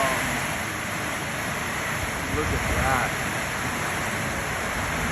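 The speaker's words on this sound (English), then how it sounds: "is the rain hitting the steel roof." Heavy rain drums on a steel roof in a Hawaiian fern forest on the Big Island, making a dense, continuous roar. A voice speaks briefly over it.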